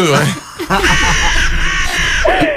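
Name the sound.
crows cawing as they pass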